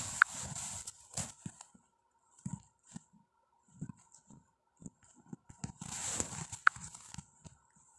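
Horses in the online game Horse Reality make soft clip-clop hoof sounds and a few light thumps, quiet and intermittent, with brief brighter digital chimes from the game interface.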